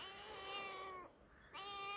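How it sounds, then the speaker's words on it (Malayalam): A cat meows in a long, drawn-out cry, breaks off briefly, then meows again, clear and close with no talking; neighbourhood cats calling. "ഇവരൊക്കെ ഈ ചുറ്റുപാടുമുള്ള പൂച്ചകളാണ് കേട്ടോ വിളിക്കുന്നുണ്ടോ"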